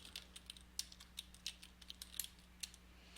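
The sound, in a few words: typing on a computer keyboard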